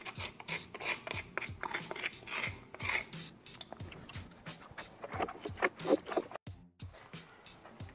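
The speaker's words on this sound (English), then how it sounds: "I like to use a chisel just to scrape off anything." A chisel scrapes rotted wood on a door frame during a DIY repair, making repeated short, rough rasping strokes up close in an uneven rhythm, with a brief pause near the end.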